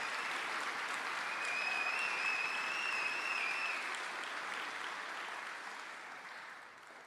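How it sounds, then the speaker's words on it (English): Steady applause from a high school graduation audience for student speakers, a broad, even clapping wash heard at a distance that slowly fades, with a brief whistle or tone above it. "How about another round of applause for all of our student speakers this morning?"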